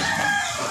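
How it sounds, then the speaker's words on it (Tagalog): A chicken gives a brief, sharp clucking call, close and fairly loud, lasting under a second. "Ayan yung manok natin."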